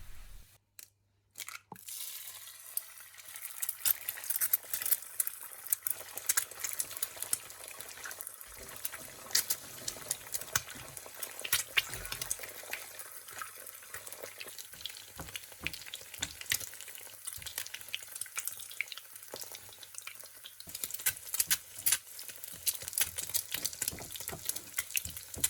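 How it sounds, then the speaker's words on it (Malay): Steady, continuous sizzling of an egg frying in hot oil, crackling and spitting close by throughout, with no voices. "jika mahu anda boleh goreng telur untuk dimakan bersama nasi goreng kampung tadi"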